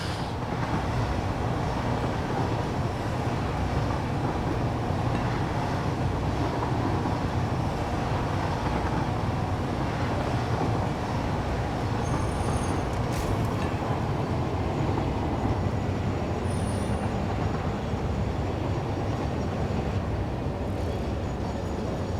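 Train from the Satisfactory video game rolling along rails, a steady continuous rumble and rattle of the wagons that holds evenly loud for the whole stretch, with no talk over it.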